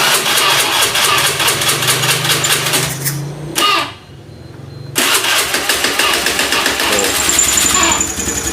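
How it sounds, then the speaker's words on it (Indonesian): Fuel-injected Honda Beat scooter with a sputtering throttle fault starts and idles up close, loud steady engine chatter that cuts out briefly before firing again and running on, with someone talking faintly. "kita nyalain nih, posisi aman semua padahal tapi gak mau digas ini motor"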